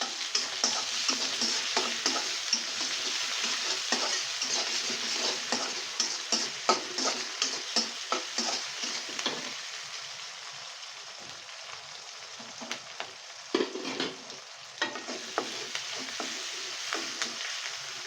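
A metal spoon stirs vermicelli (sevai) frying in a pan. Soft, steady sizzling runs throughout, broken by repeated quiet scraping clinks, close up and without talk.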